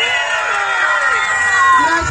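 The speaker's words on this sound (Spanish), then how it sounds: "Despidamos a Farruko Pop con un su fuerte aplauso y una bulla que nos" Large crowd at a farewell gathering in Cobán, Guatemala roars and cheers loudly, a dense wash of shouts and voices with whoops rising through it.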